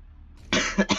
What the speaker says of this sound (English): A cough is killing me.